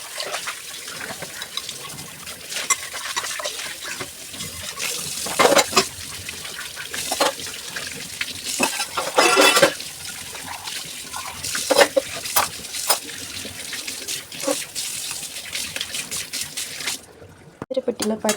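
Water runs and trickles while dishes and cooking vessels are washed in a home kitchen, a fairly close, uneven stream with splashes and a few clatters, and a voice speaking over it.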